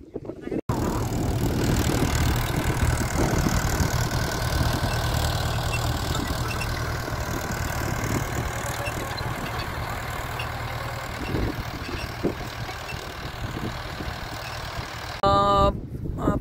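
A tractor engine hums in a field during soybean sowing, dragging a bush behind it to cover the seed. The low, steady drone runs through the clip beneath a talking voice and wind buffeting the microphone.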